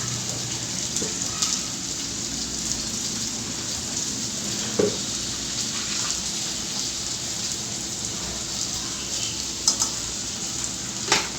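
Sliced okra frying in a pan for a Marathi home-style bhaji, with salt added: a steady hiss of sizzling oil throughout, broken by a few soft scrapes and knocks of a spatula stirring, close and moderately loud with no talking.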